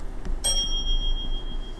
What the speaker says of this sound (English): the bell tells me it just crossed the Larka Junction